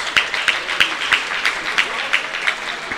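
Audience applause at a racketlon world championship semi-final, following a table tennis win, steady crowd clapping with regularly spaced sharper peaks and faint talk mixed in underneath.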